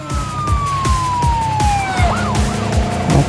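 Police car sirens wail in a Gangstar Mirage City chase, loud and close, with a long falling tone giving way to rising-and-falling whoops over rhythmic pulsing thumps.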